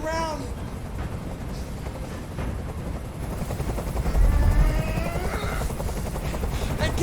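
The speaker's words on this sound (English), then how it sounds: "Tell that helicopter to get out of here." A helicopter hovers overhead in the video game Detroit: Become Human, a loud continuous rotor thrum that swells partway through, with a voice speaking underneath.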